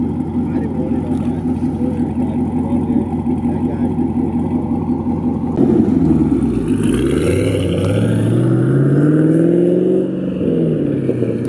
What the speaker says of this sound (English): Oh, the turbos sound good.